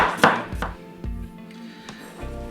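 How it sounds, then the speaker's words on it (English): A knife slices down through onion on a chopping board, a few sharp separate cuts with quiet pauses between, close and clean with no talking over them. "Just give this a slice down."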